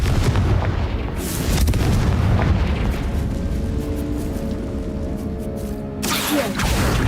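Continuous loud rumbling roar from the Confringo blasting spell in Hogwarts Legacy, a sustained explosive wash with a fresh burst near the end, no talk over it.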